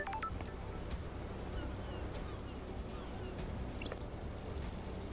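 Phone dialing tones from the video game Paradise Killer chirp briefly in a quick rising series, faint beneath a steady ambient game soundtrack.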